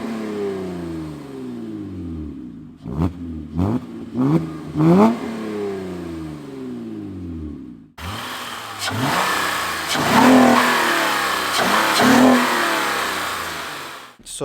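A 2007 Saturn Vue fitted with a Honda J-series V6 revs hard through gears, engine note climbing and dropping in repeated sweeps, close and loud, with a second stretch of heavier acceleration and road noise.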